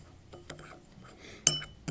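A spoon clinks against a dish while ginger powder is mixed into jaggery. The clinks are soft and scattered, with one sharp, bright strike near the end, and there is no talking.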